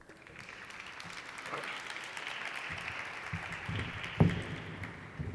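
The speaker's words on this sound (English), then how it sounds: "let's give a big warm round of applause for Taina Caragol, everyone." An audience claps at a poetry night, with a steady wash of applause from the room building slightly and holding, one louder clap or thump standing out toward the end.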